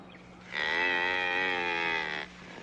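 A single cow lows in one long, loud, sustained moo lasting nearly two seconds, close by, with no talk around it, set against faint background hum out in brushy range country.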